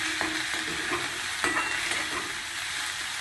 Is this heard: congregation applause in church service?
no